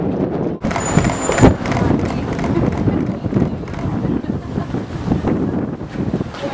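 Strong gusty wind buffets the microphone in a loud, rumbling roar that fluctuates throughout, with faint voices underneath.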